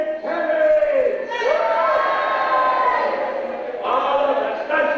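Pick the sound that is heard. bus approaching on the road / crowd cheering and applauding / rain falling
crowd cheering and applauding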